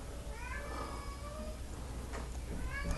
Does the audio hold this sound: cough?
no